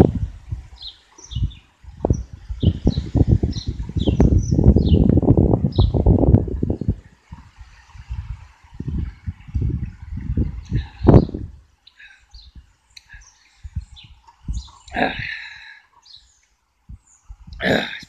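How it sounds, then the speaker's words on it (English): Several garden birds call and chirp in a snowy garden, with scattered tweets and short calls at middle distance, alongside rustling and low bumping noises, with no talk. "Seaside Mark, you like it in this garden because you always hear the old birds and see the bird"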